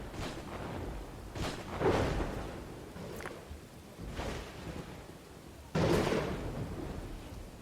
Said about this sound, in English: You have a storm approaching.